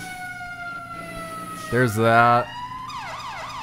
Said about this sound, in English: Turn the siren on.